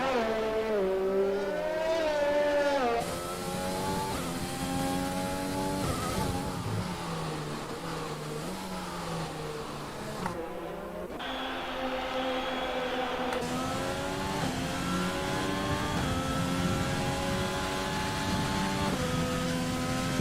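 A Formula 1 car in the F1 2020 video game on a fast qualifying lap at the Hungarian Grand Prix. The high engine whine climbs and drops through repeated gear changes almost without a break, loud and alone, easing briefly partway through.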